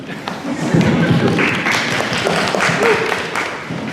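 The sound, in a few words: audience applause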